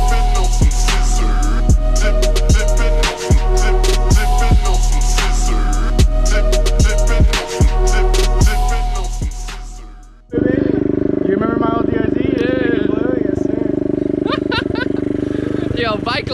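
Small pit bikes buzz and rev on a street, with sharp throttle blips over a steady engine drone, then a cut and a fresh burst of revving, while people talk over the engines.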